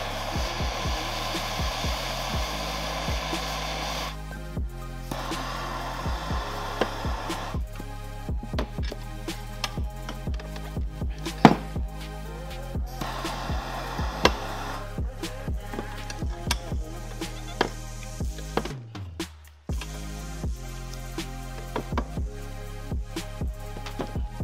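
A heat gun blows steadily and close while it heats shock linkage bearing races clamped in a vise. The whir runs for about 19 seconds, then cuts off abruptly, and faint metallic clicks and taps can be heard over it.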